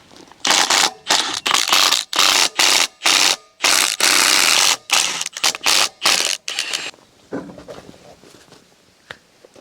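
A ratchet with a chrome socket works on a differential plug, giving repeated loud bursts of rapid clicking separated by brief pauses, close by, then fading into lighter scattered clicks with no talking.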